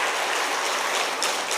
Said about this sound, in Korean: 우리 다시 한번 격려의 박수 보내드리죠.